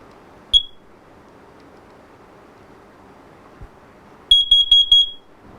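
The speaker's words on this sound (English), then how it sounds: "You'll hear this one, this will beep 4 very rapid beeps." A standalone carbon monoxide alarm sounds one short beep, then after a pause four rapid, loud, piercing beeps in quick succession, close by.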